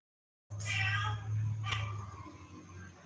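A house cat meows close by, one drawn-out meow followed by a shorter second call that fades away.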